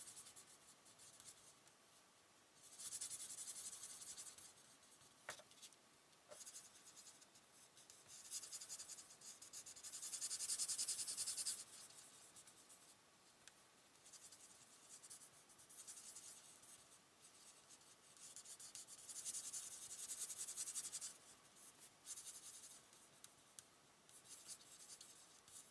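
An alcohol marker in petal pink is rubbed across a whole paper surface, a faint, close scratching that comes in long strokes, with brief pauses and a couple of small clicks.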